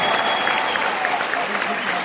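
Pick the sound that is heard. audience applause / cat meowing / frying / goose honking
audience applause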